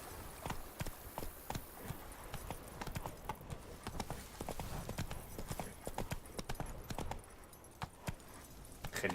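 A horse gallops in The Witcher 3: Wild Hunt, its hooves beating a rapid, steady clip-clop at moderate volume over a constant background ambience.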